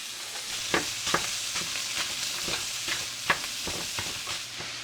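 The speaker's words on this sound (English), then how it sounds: "has me browning the meat first. Some Italian sausage and some ground beef." Italian sausage and ground beef browning in a pan, a steady close sizzle with repeated sharp scrapes and knocks as the meat is stirred, no talking.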